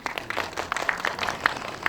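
A modest gathering at a Korean virtual human industry association general meeting claps for board candidates, a sparse, uneven scatter of individual hand claps of moderate loudness.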